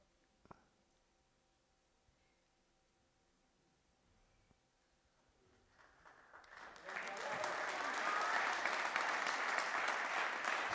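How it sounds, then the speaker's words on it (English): Crowd applause swells at a squash match during the Cleveland Open quarter-finals, starting after about six seconds and building into steady, loud, sustained clapping from a large audience, with a faint click early on. "Still also trying to give Momen a clap"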